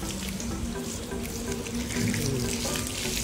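Running tap water splashing steadily as something is washed under it during Ganpati decoration preparations at home, a continuous close-up gush with faint background noise.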